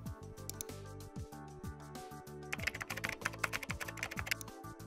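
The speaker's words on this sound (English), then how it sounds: "type in the headline of your choice" Steady typing on a computer keyboard, close and clear, a continuous run of key clicks that grows busier and louder in the second half, with a faint background tone underneath.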